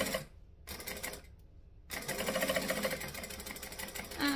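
Sewing machine back stitching on a Charlotte by Swoon bag with layers of double-sided tape, beginning with a short burst and then, after a pause, a longer steady run of rapid mechanical stitching.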